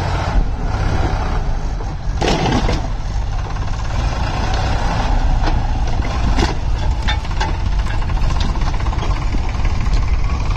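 Sonalika 35 and Mahindra 475 tractors climb a steep hill outdoors, their diesel engines droning loudly and steadily throughout with no voices.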